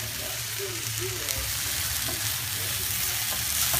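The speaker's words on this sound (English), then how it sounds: "look at that, simmering very nicely" Gumbo simmering in a pot on the stove, giving a continuous soft sizzle and bubbling hiss at moderate level with no talk over it.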